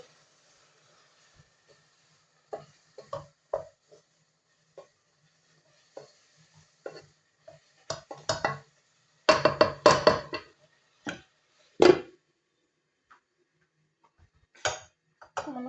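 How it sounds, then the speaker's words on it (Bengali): Spices being stirred in a cooking pot while they roast together before meat goes in, heard as sparse, scattered scraping clicks and taps at close range with quiet gaps between. "একসাথে জেলে নিচ্ছি মশলাটা কিছুক্ষণ নেড়ে নিচ্ছি"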